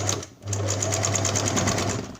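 Sewing machine stitching fabric for a scarf crown, running steadily and loudly at a fast even rhythm with a brief pause near the start.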